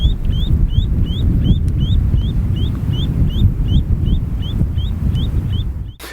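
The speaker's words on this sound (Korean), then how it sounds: "이 소리는 흰목 물대새가 여러분을 발견하고 지금 다른 흰목 물대새에게 경고음을 보내는 거예요" A recorded wetland bird gives its warning call over a gravel riverbed: a series of sharp, rising peeps repeated at an even rhythm over a low, constant rumble of water or wind.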